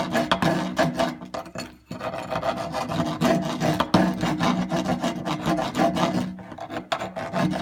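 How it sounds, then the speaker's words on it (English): A combination wood and metal rasp files the edges of PVC pipe in fast, rough rasping strokes, close and continuous with brief pauses. "all I'm doing is just going in and just kind of file these edges"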